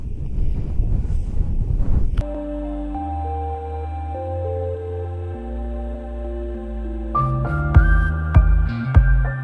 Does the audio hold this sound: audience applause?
no